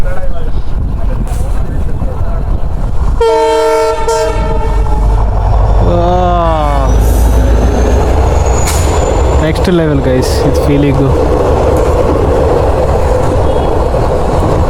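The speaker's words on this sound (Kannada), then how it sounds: "ಸೊ ರೈಲ್ ಬರ್ತಾಯಿದೆ ಗಾಯ್ಸ್" A train rolls past a level crossing at midday, loud and close, its horn sounding in long stacked blasts and again briefly, with rumbling wheels and clattering cars throughout while people speak over it.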